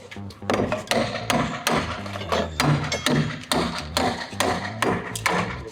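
A steady series of sharp hammer blows on a construction site, about a dozen solid knocks on a hard surface at an even pace, close by.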